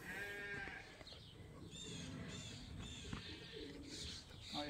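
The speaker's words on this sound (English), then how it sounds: "Oh, here's those lambs." Lambs bleat faintly on a sheep farm, a few high calls rising over a low background of other animals and distant farm noise.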